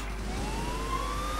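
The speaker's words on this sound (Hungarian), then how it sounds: "Belém hajtott a rendőrautó és most már köröznek engem." Police car siren from the video game GTA IV, a wailing tone sweeping upward over a low engine hum, loud and continuous with no talk.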